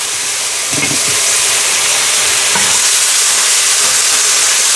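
Garlic sizzling in a pan while chicken with Parmesan cream sauce is being cooked, a steady close broadband frying hiss throughout with a couple of brief stirring clatters, no voices.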